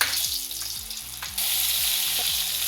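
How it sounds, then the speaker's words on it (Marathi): Kokum agal fries in hot oil in a kadai with a loud, continuous sizzle that jumps up in intensity partway through, alongside a rhythmic mechanical hum pulsing underneath; no voices. "आता मी त्यामध्ये कोकम आगळ घालते. ते तेलावर थोडं परतायचं आपल्याला."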